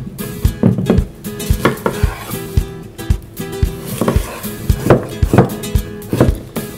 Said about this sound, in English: I'm gonna start by cutting our cucumber.